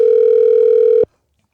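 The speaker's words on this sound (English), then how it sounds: "Let's get her on the phone first." A telephone dial tone drones steadily for about a second, then cuts off abruptly into silence.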